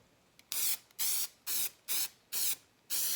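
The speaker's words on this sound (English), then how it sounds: "grab our adhesive and do a quick little spray over it" Six short, sharp hissing spray bursts from a can of spray adhesive applied to headliner fabric in a 2014 Ford Mustang, evenly spaced and close, with quiet gaps between them.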